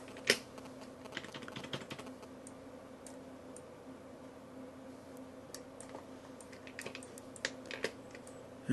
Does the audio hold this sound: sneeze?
no